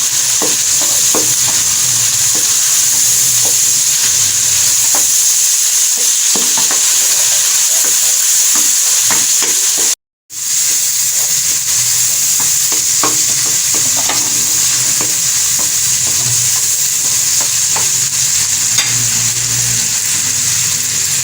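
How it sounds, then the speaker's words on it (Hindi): Tomatoes fry and soften in hot oil for masala kaleji, giving a constant loud sizzle with light stirring scrapes throughout and one brief cut to silence midway. "ये देखें टमाटर हमारा अभी से मेल्ट हो रहा है, बिल्कुल ये गल जाएगा इसी ऑयल में।"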